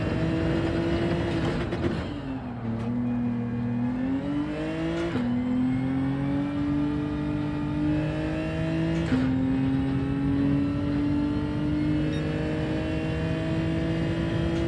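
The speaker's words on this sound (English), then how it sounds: "Just quite like to rev it out in third, I think." Race car engine in third gear in Gran Turismo 7 during a Nurburgring sprint race, revving loud and steady with rising and falling pitch through several gear pulls across the whole stretch.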